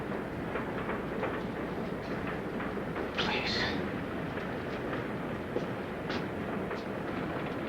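A moving train carries a steady, loud rumble of rolling wheels and carriage noise throughout, with a brief hiss near the middle and a voice speaking over it.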